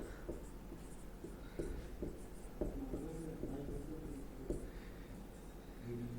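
Chalk or marker writing notes on a board during a physics lesson, with short scratchy strokes and taps in an irregular rhythm, fairly quiet in a room.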